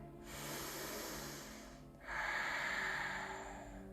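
During a yoga session, two long, close breaths follow one after another with a short gap between them, each a soft, airy rush, the second stronger and hissier.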